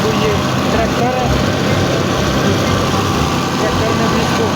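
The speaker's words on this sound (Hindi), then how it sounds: "तो ये ट्रैक्टर है" A tractor's engine idles with a steady low rumble near a wheat harvest and threshing site, a constant mechanical drone with people talking over it.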